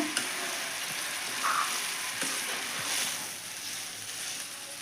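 Cauliflower fry being tempered in a hot pan gives a steady soft sizzle and crackle, with a few light stirring scrapes, moderately quiet and close.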